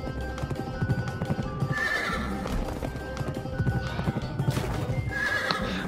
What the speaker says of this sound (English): So now we're gonna have a hot horse riding section.